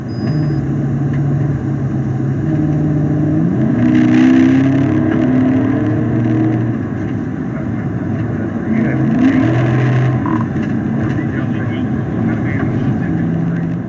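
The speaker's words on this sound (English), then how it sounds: "A large pickup truck roars down the highway, eventually reaching speeds well over 100 miles per hour." A large pickup truck roars down a highway at well over 100 mph in a police pursuit, heard as a steady, loud engine and road roar with shifting tones throughout, with a voice speaking over it.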